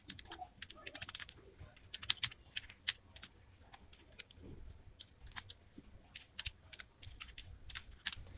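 An email address being typed on a computer keyboard while setting up WordPress on a local server; steady, fairly quiet clicking keystrokes in irregular bursts with no talk.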